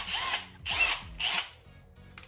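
A cordless power drill drives shallow screws into a board during a trolling motor install on a jon boat, giving three short whirring bursts in quick succession followed by a brief ratcheting click, all close up.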